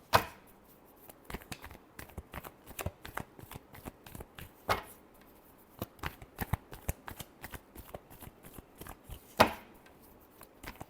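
Tarot cards are shuffled by hand in a steady series of crisp, riffling slaps and flicks, quiet and close, with a few sharper snaps standing out.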